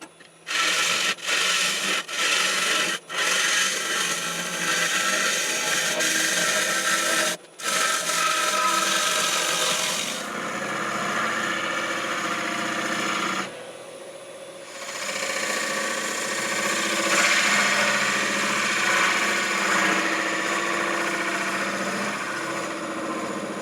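A spalted beech platter with significant cracks spins on a wood lathe while a tenon is turned on its bottom. The tool gives a steady, loud scraping hiss, with a few short breaks early on and a brief pause near the middle.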